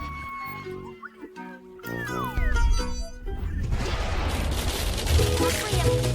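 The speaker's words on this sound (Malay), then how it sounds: "Popcorn akan meletup." Popcorn bursts into a rapid, dense flurry of pops following cartoonish voices and effects, growing loud and busy.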